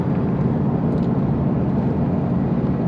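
A Toyota Hilux with a swapped-in 3UZ-FE V8 climbs a hill in fifth gear at about 100 km/h and 2,000 RPM, its steady low engine drone blended with constant road and wind noise from inside the cab.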